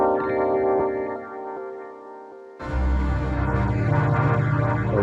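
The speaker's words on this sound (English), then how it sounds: "the lo-fi effect coming in. This one's very distorty." A distorted lo-fi synth patch from Arturia Pure LoFi plays a held tone, then jumps to a louder, gritty, heavily saturated texture halfway through, sustained and dense, with no speech.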